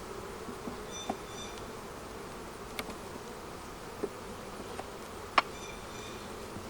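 Honey bees buzz faintly around a hive during a colony split, a quiet continuous drone with a few soft clicks and brief sharper buzzes.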